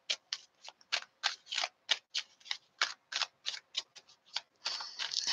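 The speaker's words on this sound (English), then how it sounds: "Just shuffling, shuffling." Tarot cards shuffled by hand in quick repeated bursts, a crisp papery riffle roughly every third of a second, close and fairly quiet, ending in a longer flutter.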